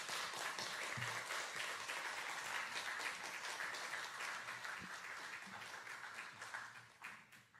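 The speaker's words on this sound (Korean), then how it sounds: "큰 박수로 함께 환영해 주시기를" Church congregation applauding to welcome a visiting pastor and a missionary serving in Malaysia, a broad, steady wash of clapping from a crowd that holds for several seconds, then thins and fades toward the end.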